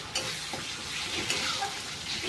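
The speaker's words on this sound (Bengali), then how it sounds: "মশলার সাথে টমেটো দিয়ে খুব সুন্দর করে কষিয়ে নিতে হবে" Boiled chopped tomato sautéing with spices in a pan makes a continuous dense sizzle with faint stirring scrapes, steady and close, with no voices.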